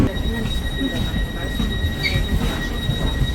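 A passenger train running on rails in Switzerland, a continuous rumble of wheels with steady high-pitched wheel squeal ringing on top, heard from inside the carriage, loud and unbroken.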